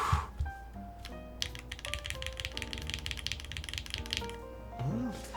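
Rapid, steady clacking of keys on a mechanical keyboard, close and fairly loud, with a brief lull near the start.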